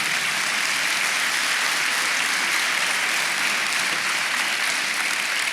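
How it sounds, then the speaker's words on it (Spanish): A church congregation claps together for the Lord during a sermon, a loud, dense and steady applause that fills the whole stretch without a break. "Denle palmas al Señor."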